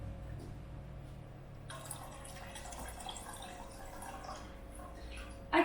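Water is poured into a pot of chicken broth for bulgur soup, giving a steady close trickle and drip of liquid over a low kitchen hum, with a brief louder clatter at the end.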